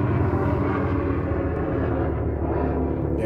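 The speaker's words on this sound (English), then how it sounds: "Damn helicopter." A helicopter flying overhead near a local airport produces a loud, steady low rumble that fills the whole moment without any voices.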